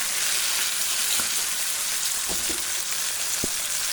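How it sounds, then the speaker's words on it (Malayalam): Fish fry in a pan of hot oil with a steady, dense sizzle throughout, broken by a few soft pops and spatters, close and loud with no talking. "അപ്പോൾ എല്ലാ മീനും നമ്മൾ വെച്ചിട്ടുണ്ട് വറുക്കാൻ വേണ്ടിയിട്ട്."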